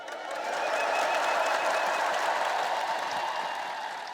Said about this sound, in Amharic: ዛሬ ለድንግል ማርያም ክብር ሲሆን በደንብ አጨብጭቡ።